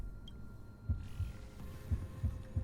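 Heartbeat sound effect in the Honkai: Star Rail video game: a steady series of deep, soft thumps, about five beats over a low rumbling hum, with no talking.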